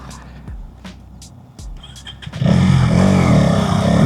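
A Hero Xtreme 250R 250cc naked motorcycle's engine pulling at low RPM in sixth gear during a road ride, a few faint clicks and thumps first, then a loud, steady low drone with wind rush.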